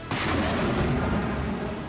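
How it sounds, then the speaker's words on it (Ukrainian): A single loud, booming artillery blast fired at the front in Ukraine opens abruptly and rolls on as a broad, noisy roar filling the whole moment. "Постріл!"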